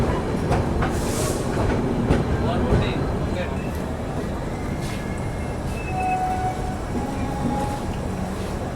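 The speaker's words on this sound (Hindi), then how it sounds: "हमारी ट्रेन जो है वो जयपुर जंक्शन से निकल चुकी है।" Ashram Express train pulling out of Jaipur Junction, heard from inside the coach as a loud steady rumble with rhythmic clickety-clack of the wheels and brief faint squeals throughout.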